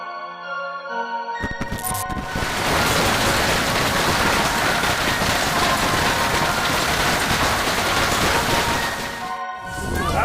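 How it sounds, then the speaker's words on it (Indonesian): A dense, loud roar of hard pellets pounding a surface, broadband and steady for several seconds before easing off near the end. "Tiga, badai es."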